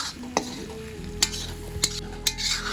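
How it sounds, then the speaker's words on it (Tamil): A spoon scrapes and taps masala around a frying pan while cooking spicy Andhra chicken fry, with a few sharp clinks, soft sizzling underneath, close and fairly quiet. "இப்போ நம்ம அதையும் போட்டு நம்ம ஒரு கிண்டிக்கிறோம்"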